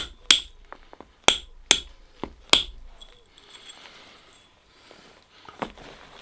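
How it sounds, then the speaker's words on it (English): A small soft hammer knapping stone while shaping a dagger, four sharp ringing strikes close together near the start and one more later, with faint scraping in between. "Can drop down to the smaller soft hammer now"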